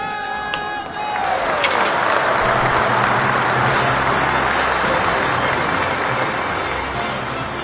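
Loud, dense applause with cheering from an audience greets a performer's triumphant stage entrance, swelling in after a brief lead-in and sustained as a steady roar to the end.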